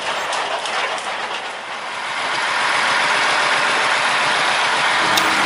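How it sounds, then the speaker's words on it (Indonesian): Sugar cane railway steam locomotive hauling lorries over a level crossing at a sugar mill, a loud steady rumble with rhythmic clatter of wheels close by, no talk. "Keren-keren ketika bandul dan batang menghubung, roda lokomotif ini bergerak teman-teman."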